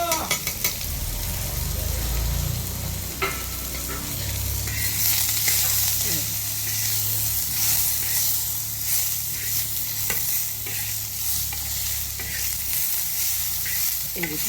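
Chopped radish sizzles and fries in hot oil in a pan, stirred steadily with scraping utensil strokes, a continuous close crackle with occasional clinks of metal against the pan.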